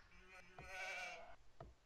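Sheep bleat in Age of Empires 2, a short wavering bleat in the middle with softer calls around it, faint and quiet in the game audio.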